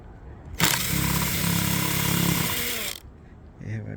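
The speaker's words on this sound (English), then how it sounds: "I have a drill here." A power drill fitted with a 7mm socket spins out a bolt on a Ford Escape, giving a loud continuous whine for about two and a half seconds before it cuts off. Brief talk follows.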